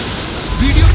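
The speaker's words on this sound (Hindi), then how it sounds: "कैंपटी फॉल में अचानक पानी तेज बहने लगता है।" Water suddenly surging at Kempty Falls, a waterfall: steady broadband rushing roar that swells louder in the second half, with a low rumble building underneath.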